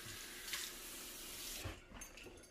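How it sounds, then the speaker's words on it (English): Water pours steadily from a tap into the water tank of a Veavon V8 robot vacuum, a continuous splashing rush that shifts in tone as the tank fills, then tapers off near the end. "once we got the water tank all filled up"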